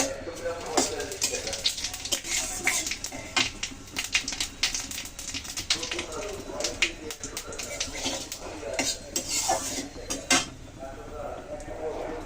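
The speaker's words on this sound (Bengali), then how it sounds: "তো দিয়ে দিচ্ছি ফোড়নের শুকনো লঙ্কা তেজপাতা, আর দিচ্ছি গোটা জিরা" Dried red chillies, bay leaf and whole cumin crackling in hot oil in a pan, with rapid faint sputters and utensil clicks throughout and some quiet talking underneath.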